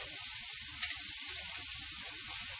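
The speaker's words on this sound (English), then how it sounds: "I got to put in this garlic" Roasted garlic dropped into a pan of meatball sub sauce, a loud steady sizzle close up with one brief sharper crackle, no voices.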